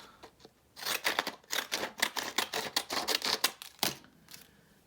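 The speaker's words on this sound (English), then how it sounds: "I'm gonna do that one with scissors" Scissors snip through paper while stenciling and stamping pages of a Christmas craft book, a quick run of about a dozen crisp close cuts in steady rhythm, bracketed by a few softer handling clicks.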